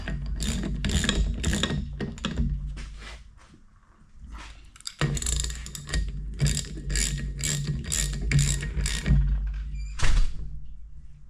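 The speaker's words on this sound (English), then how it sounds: "Obviously 4 bolts tightened at the crisscross pattern." A hand ratchet tightens four bolts in a crisscross pattern on a rebuilt Oliver 82 mower's Hydra-Lectric cylinder, giving close, rapid bursts of clicking with short pauses between bolts.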